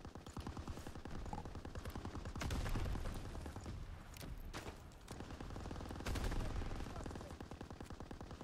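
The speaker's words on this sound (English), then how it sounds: "Did he shoot that and it blew up?" Sustained rapid gunfire and blasts in a Call of Duty WWII match, dense bursts of automatic shots with heavier booming swells near three and six seconds, loud and continuous with no talk over it.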